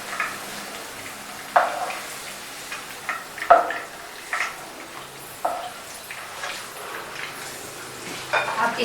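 Okra fried about half an hour in oil, being scooped out of sizzling oil into a pot, with a constant low sizzle and scattered clicks and scrapes of a utensil against the pan.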